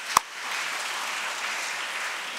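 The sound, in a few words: audience applause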